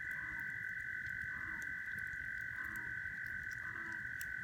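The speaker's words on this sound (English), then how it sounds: "hear the bullfrog." Bullfrog croaking outdoors near an evening bonfire, low repeated croaks recurring every second or so beneath a loud steady high-pitched insect drone, with no talking.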